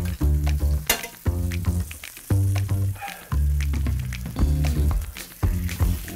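Pork chops sizzle in browned butter in a pan, with a steady frying hiss and scattered sharp pops running through the whole stretch, close and fairly loud, with no talking.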